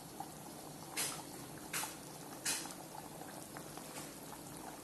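A pot of Tamil fish curry (meen kulambu) simmering at a steady boil, a soft continuous bubbling with a few louder pops and splutters, heard close and without talk.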